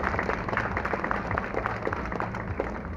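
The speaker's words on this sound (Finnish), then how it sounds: "nyt otetaan nyt aplodit näille finaalistille" Audience at a Joensuu grilling competition applauding the finalists, a steady patter of many hands clapping at moderate distance for a few seconds.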